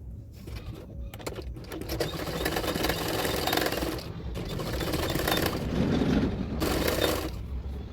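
A sewing machine stitches along a blouse neckline in a steady, continuous run of rapid needle clatter close by, with no talking.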